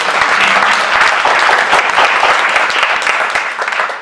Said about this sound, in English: Let's give Congressman Heinrich a round of applause.